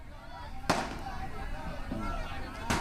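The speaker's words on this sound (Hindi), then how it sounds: "आतिशबाजी वहां पर हो रही है, जश्न मनाया जा रहा है" Fireworks at a celebration welcoming tunnel rescuers home in Uttarkashi, two sharp bangs about two seconds apart over steady crowd chatter and babble.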